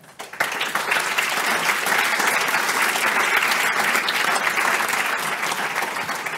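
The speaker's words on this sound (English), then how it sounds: "So a round of applause for our panelists." Sustained applause from a conference audience for a panel on EU strategic autonomy and plasma collection, rising quickly and holding steady as a dense, loud wash of clapping.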